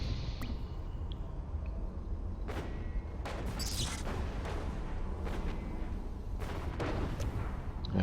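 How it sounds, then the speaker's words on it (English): Repeated artillery fire in a sci-fi strategy game, booming irregularly as sharp blasts over a dense, constant rumbling battle background, with several shots clustered close together. "here comes the artillery"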